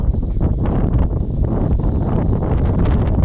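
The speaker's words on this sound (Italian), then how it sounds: "c'è molto vento" Strong wind buffeting the microphone at San Rocco on a snowy, sunny day, a loud continuous low roar with gusty fluctuations throughout.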